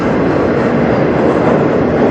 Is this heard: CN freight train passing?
yes